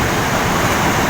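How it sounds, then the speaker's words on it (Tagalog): Sea waves at the beach in Baler, where the water is deep and the swells are big, give a steady, loud broadband wash of surf with no voices over it. "Tunog ng dagat oh."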